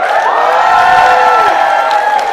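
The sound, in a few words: audience applause and cheering for Team Pakistan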